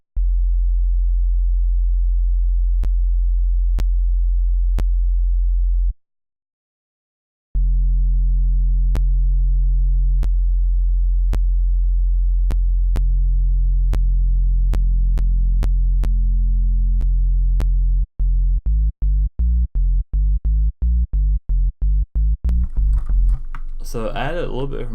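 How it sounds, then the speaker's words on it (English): Sub bass note with added harmonics from a synth, sustained and loud for about eighteen seconds, then chopped into rapid stuttering pulses near the end, with faint clicks throughout. "So I added a little bit of harmonics"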